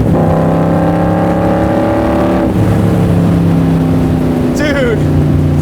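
Shelby Cobra R with a Gen 3 Coyote V8 revs hard and accelerates, a loud close engine roar that drops and climbs again through a downshift, with a brief high whine near the end.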